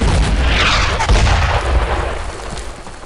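Gunfire from the video game Brothers in Arms: Earned in Blood: dense, sustained booms and shots throughout, with heavy low rumble and a louder burst near the middle, fading slightly toward the end, no talk.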